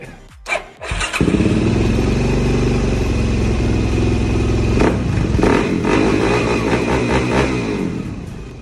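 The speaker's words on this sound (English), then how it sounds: "the bike is running pretty good" Suzuki DRZ400 motorcycle engine starting with a brief crank, then running steadily at a close, loud idle with a few small revs rising and falling.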